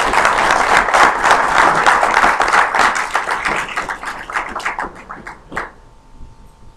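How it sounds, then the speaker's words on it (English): An audience at a Canadian Club luncheon in Edmonton applauds warmly and close by, a dense wash of clapping that thins into scattered claps before dying away. "we should give a round of applause for our treasurer, who's retiring as of December the 31st"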